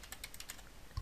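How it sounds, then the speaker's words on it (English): Soft, quick keystrokes on a computer keyboard tap in a light irregular patter, quiet and close, ending with a slightly louder key press. "Okay, so we'll just type in"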